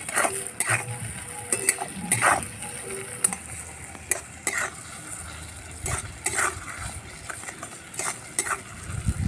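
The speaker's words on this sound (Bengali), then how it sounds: "এবার কেটে রাখা টমেটোটা দিয়ে দেবো" Chopped tomato goes into a pan of softened onion, sizzling and frying steadily while a utensil stirs and scrapes against the pan in repeated bursts, close and moderately quiet.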